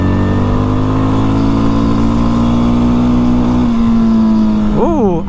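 A Mash X-R single-cylinder motorcycle engine accelerating through its gears, loud and close with a steady rising drone, then a quick dip and climb near the end as a gear changes.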